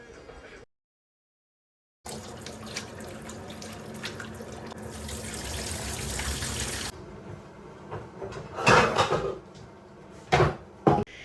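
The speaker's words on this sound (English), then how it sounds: "Now I'm just adding like a cup or two of water." Water poured from a cup into a simmering pot of kabsa, a steady splashing pour lasting several seconds, followed by a few clattering kitchen knocks.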